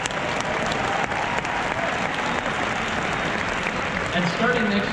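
Convention audience breaks into sustained applause, a dense wash of many hands clapping across a large hall, with a speaker's voice faintly over it.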